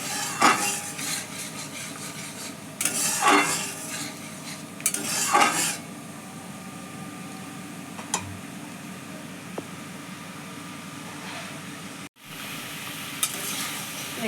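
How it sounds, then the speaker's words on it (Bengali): Chicken momo filling is stirred in a pan with a little water, bursts of scraping and spoon-on-metal clatter over a soft bubbling sizzle, close by and without talk. "তো এটাকে আমি ভালো করে নেড়ে নিচ্ছি।"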